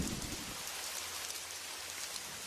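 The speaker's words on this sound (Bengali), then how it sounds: "বাইরে তো বৃষ্টি হইতাছে" Rain falls steadily outdoors, a constant dense patter and hiss of drops that stays even throughout with no speech.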